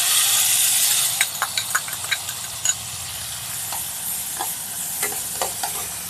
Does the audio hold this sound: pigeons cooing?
no